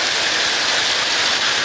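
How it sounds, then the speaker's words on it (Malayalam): Heavy rain pours down in a mid-May downpour, a loud, dense, steady hiss that fills the whole stretch without any break and has no voices over it. "നല്ല ശക്തമായ മഴയാണ് അനുഭവപ്പെടുന്നത്"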